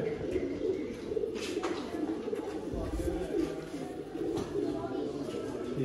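A pair of pet pigeons coo softly in a loft, low rhythmic calls repeating beneath a voice that talks throughout.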